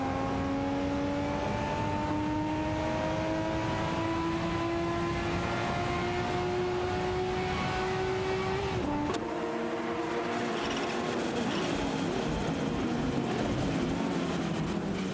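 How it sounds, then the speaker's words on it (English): Lotus Carlton and Porsche 944 Turbo S race in a video game, a steady engine drone rising slowly in pitch with a sharp gear change partway, then continuing with layered tones of several cars, loud and constant with no talk. "The Lotus Carlton and Porsche 944 Turbo S are giving it their all in this thrilling showdown."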